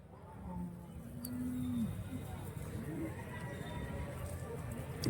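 A cow moos once in a long, low, drawn-out call, close by, over a steady background of noise at a cattle market in Karimangalam, Dharmapuri district.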